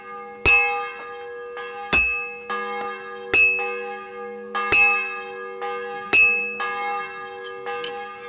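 A church bell tolls in the medieval game Kingdom Come: Deliverance 2, with six or seven strong, evenly spaced strikes whose bright metallic overtones hang and overlap between blows, ringing out clearly with no talk.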